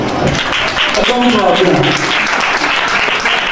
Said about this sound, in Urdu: بھائی کے لیے تالیاں ہو جائیں.